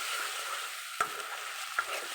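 Turmeric powder and spices being fried in a pan for a chicken curry with taro, with a steady soft sizzle and two brief stirring knocks close by.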